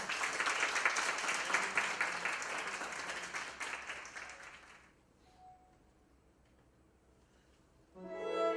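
Audience applause fills a school orchestra concert hall at Hansung Science High School, a loud, dense burst of clapping that fades out, followed by quiet and then a fresh swell of clapping near the end.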